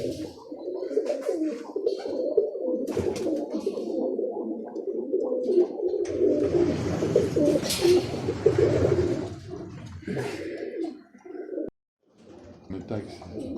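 Birmingham Roller pigeons, including black bullheads, coo in a loft, with soft murmuring bird calls running under continuous nearby conversation between two men.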